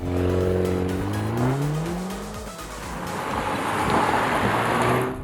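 A Mercedes-AMG A45 S 4MATIC+ is driven hard on its road test, its engine note climbing and falling through gears with tyre squeal and skidding noise, loud and close with no talk.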